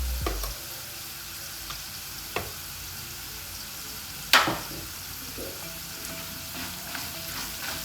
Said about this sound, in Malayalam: ഇതിപ്പോൾ നല്ല ഫ്രൈ ആയിട്ട് വരുന്നുണ്ട്.